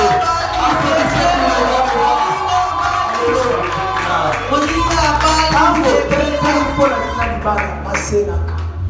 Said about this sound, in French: Applaudissez pour Jésus bien-aimé.